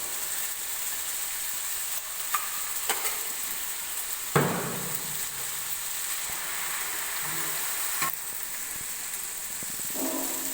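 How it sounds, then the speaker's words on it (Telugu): Ginger, turmeric and spices frying in oil in a pan give a steady, fairly loud sizzle throughout, broken by a few sharp clinks and stirring scrapes, with no one speaking. "పచ్చి వాసన పోయే వరకు వేగించుకోవాలి."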